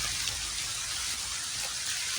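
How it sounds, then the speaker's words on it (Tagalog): Steady moderate rain falls, now easing off, a dense even hiss of drops hitting surfaces, continuous and close with no voices or other sounds. "hindi na masyadong malakas yung ulan no"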